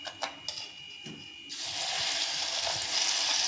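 Bhaji fritters dropped into hot oil for a no-onion, no-garlic Shravan thali, bursting into a steady, broad sizzle after a few soft clinks and taps, then bubbling loudly and continuously up close.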